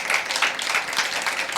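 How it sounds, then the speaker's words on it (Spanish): A church congregation applauds during a sermon, producing a steady wash of clapping that holds at an even level for under two seconds with no voices over it. "¿Cuántos le podremos dar un aplauso fuerte al Señor por esa verdad?"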